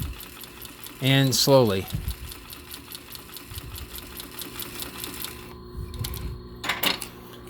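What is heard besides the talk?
sewing machine stitching leather bag edge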